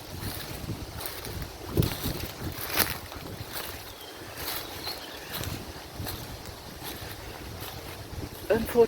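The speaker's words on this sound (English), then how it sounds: "Unfortunately, it was a little bit too windy today." Strong wind buffets the microphone at a secluded outdoor spot, a continuous rumbling roar with irregular loud gusts throughout and no clear voices.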